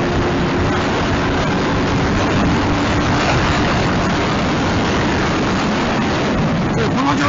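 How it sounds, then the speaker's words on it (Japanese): A 1987 Yamaha DT200R two-stroke motorcycle engine held at raised revs, a dense, steady, loud roar running without a break, close to the microphone. "ちょっと今回転数あえて上げてるんですけども"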